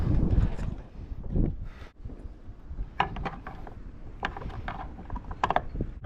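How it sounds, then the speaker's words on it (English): A bolt being fitted while a radar is mounted on a 40-year-old sailing boat, with clicking and ratcheting mechanical sounds in uneven bursts, close by, with some wind noise and no talk. "Okay, I'm gonna get one bolt in."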